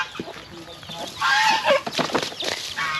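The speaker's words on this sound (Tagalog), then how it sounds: "may bago tayong manok na naman may mga sisiw at saka yung baboy natin dito sa loob" Free-range farm chickens, including new hens and young chicks, clucking and chirping nearby, with some wing flapping and a person speaking intermittently among the bird calls.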